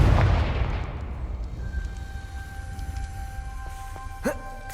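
A Confringo blasting spell goes off in Hogwarts Legacy: a loud booming explosion opens the sound and rolls off into a decaying rumble, followed by faint magical tones and a brief sharp crack near the end.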